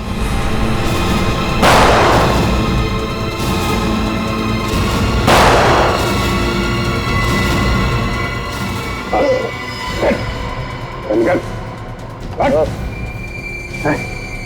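In a TV crime drama scene, two heavy gunshots boom out a few seconds apart over a noisy background, followed by shorter yelping calls and scattered voices.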